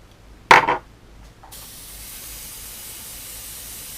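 An airbrush with a 0.3 needle sprays paint at 18 psi on parts of a Tamiya 1/12 Honda CB750F model kit. A brief sharp burst comes first, then a steady, soft, even hiss runs without a break until the end.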